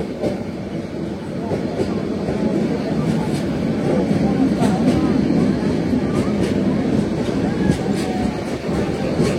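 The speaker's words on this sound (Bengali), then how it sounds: "আমাদের ট্রেনটি এখন টঙ্গী জংশন থ্রু পাস করে গেল।" Mahanagar Godhuli Express runs through Tongi Junction at night, heard from on board as a continuous low rumbling roar of the moving train with faint rhythmic rail clicks, loud and close throughout.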